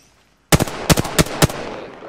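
Weapon fire in Apex Legends cracks out in four sharp bursts after a brief silence, loud and close, each burst a quick double or triple shot with a short ringing tail.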